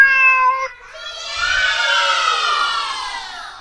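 A cat gives a short meow, then a longer, drawn-out wailing meow that rises and slowly fades.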